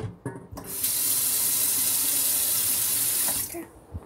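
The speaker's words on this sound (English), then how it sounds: "just go ahead and put some water in this pan so it doesn't all go all weird and crust up" Water runs from a kitchen tap into a pan in one steady, loud, close rush lasting about three seconds, with brief clatter before it starts and after it stops.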